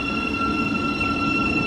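A GWR HST high speed train runs through Royston station, a steady loud rumble of wheels and engine with a high sustained whine, continuous and close throughout.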